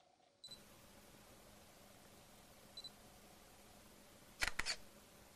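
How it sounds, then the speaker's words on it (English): An Olympus E-510 DSLR in a quiet room gives two soft autofocus beeps a few seconds apart, then fires its shutter in one crisp, close double clack. "When I press down on the shutter release button, you'll hear the 3-point autofocus engage, and when the camera beeps, it's ready to take a photo."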